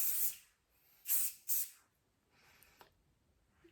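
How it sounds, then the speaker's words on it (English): Three short hissing bursts from an aerosol hair spray can, close by, followed by a softer longer hiss in a quiet room. "I'm going to give it just a little spray"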